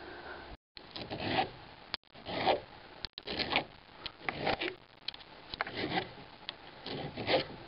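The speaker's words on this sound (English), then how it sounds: "Does that sound bother anybody? Metal scraping metal." Metal scrapes against metal in close, irregular rasping strokes during a brake pad change, with short bursts and brief pauses between them and no talking.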